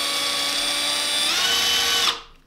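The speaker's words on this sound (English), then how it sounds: "Then we are going to drill this on a slow speed" A drill turns slowly, spinning a graphited pinewood derby wheel with a steady, close mechanical whine that cuts off sharply near the end.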